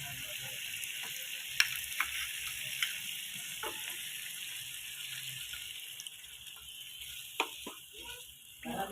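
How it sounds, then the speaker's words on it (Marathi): Steady hissing sizzle of water hitting a hot pan of spiced potatoes, with a few soft clinks and scrapes breaking through the continuous fizz. "त्यामध्ये टाकूया आता पाणी"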